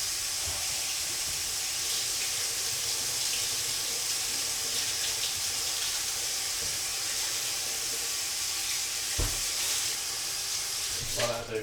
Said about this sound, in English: Give that a rinse on the top of that with hot water.